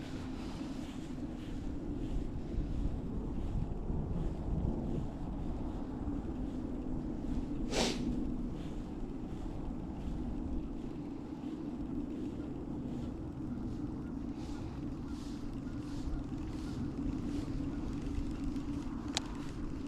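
Wind blowing across open water on a boat outing, a steady low buffeting rush and microphone rumble throughout, with a brief sharp knock midway and no talking.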